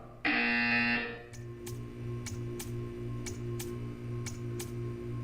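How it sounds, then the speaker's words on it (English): A loud electronic buzzer in the video game Portal 2 sounds for about a second, then a steady hum with faint periodic ticks continues. "When you hear the buzzer, stare at the art."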